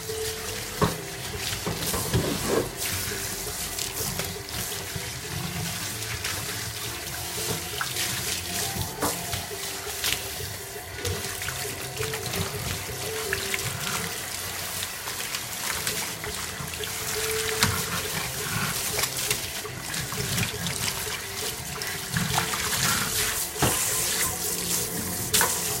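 Running tap water rinses a pug at a Paris dog-grooming salon, a steady close splashing and trickling stream that continues throughout with no talking.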